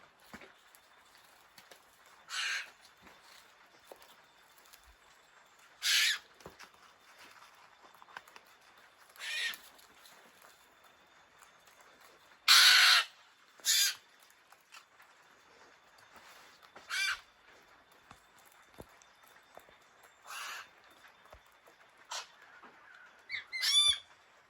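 Red-billed choughs call in short, sharp bursts spaced a few seconds apart, loud and close. Between the bursts there is a quiet outdoor background, and a few softer chirps are heard near the end.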